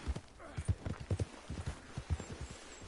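Steady clip-clop of horse hooves trotting nearby in Red Dead Redemption 2, a rhythmic run of hoofbeats with a brief snort or whinny mixed in.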